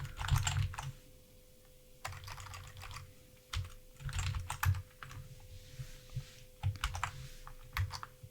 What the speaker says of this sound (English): So let me key in my user ID and password.